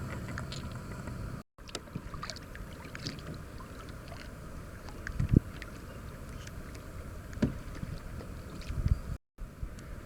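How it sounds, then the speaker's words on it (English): Strong wind gusting over a creek on a fishing trip, a steady rushing roar buffeting the microphone with small knocks and splashes of boat or water, with no talk. "This wind is blowing about. Gosh, I don't know how to estimate wind, but it's blowing hard."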